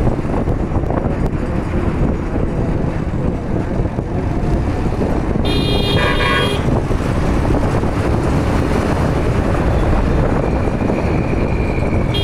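A car on a highway near Bhopal overtaking another vehicle, with a loud, constant roar of road and wind noise and a single horn blast lasting about a second midway through.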